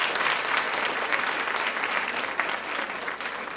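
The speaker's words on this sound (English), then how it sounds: "let's give them a big round of applause" An audience at a women in media and communications panel discussion claps steadily, a dense wash of hands that holds for several seconds and eases slightly near the end, with a faint crowd murmur beneath.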